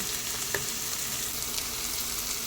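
Vegetables sizzling in two spoons of oil in a pan, a steady close frying hiss with a faint scrape of stirring and no voices.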